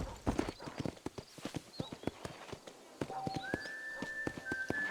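Horse hooves clip-clop steadily on a dusty town road in the Western game Red Dead Redemption, close and rhythmic, while a whistle-like tone rises in the background toward the end.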